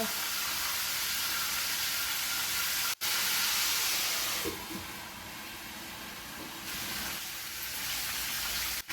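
Chicken drumsticks and wings fry in a covered pan, giving a steady loud sizzle and hiss that eases slightly partway through, with a couple of brief clunks and no talk.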